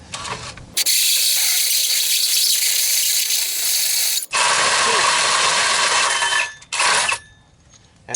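A hole saw drilling through a Ford 6.0 diesel truck bumper, a loud sustained metallic grinding whine in long bursts with brief pauses between them.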